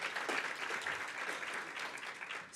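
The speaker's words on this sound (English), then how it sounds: "Let's give them another round of applause." A summit audience giving a farm tech panel another round of applause, a short burst of steady, moderately distant clapping from a full room.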